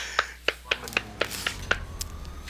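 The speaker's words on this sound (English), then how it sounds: "I don't know if you heard that, but I clapped." A series of sharp, evenly spaced hand claps, around seven, ringing out quickly over a faint background hum, while playing Grand Theft Auto 4.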